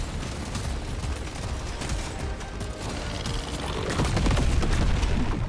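Explosions and gunfire from the game Deep Rock Galactic: Survivor pile up into a dense, continuous clatter of shots and blasts that grows louder toward the end, with no voices over it.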